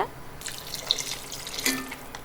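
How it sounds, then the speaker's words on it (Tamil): Water is poured into a pot of brinjal vathal kuzhambu, a Tamil tamarind curry, giving a soft splashing trickle that rises and falls over a couple of seconds, fairly quiet and close. "எந்த அளவுக்கு தண்ணி உங்களுக்கு குழம்புக்கு தேவையோ அந்த அளவுக்கு ஊற்றிக்கோங்க"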